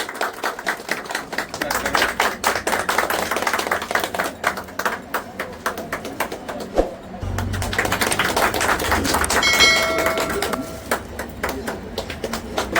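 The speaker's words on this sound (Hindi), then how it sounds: "जोरदार तालियों के साथ स्वागत किया जाए।" Audience clapping to welcome a guest at an event in Andheri against corruption, dense irregular claps running throughout with a low hum partway, fairly loud and close.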